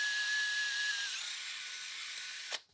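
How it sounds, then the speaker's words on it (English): A high-pitched drill whines steadily while boring through a metal bolt on a Ferrari Mondial t, then cuts off abruptly with a short clatter. "My idea now is to drill through the bolt"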